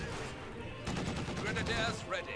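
DShK heavy machine gun fire in Company of Heroes 2 pinning down infantry, sustained bursts of rapid gunfire with overlapping shots and battle noise, a voice talking over the shooting.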